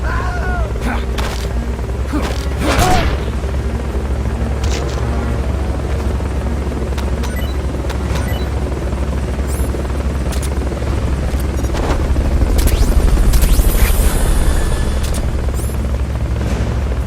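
A helicopter's rotor thrums steadily throughout in the video game Metal Gear Solid: Peace Walker, with sharp bursts and bangs cutting in, like gunfire and explosions in a game's battle mix.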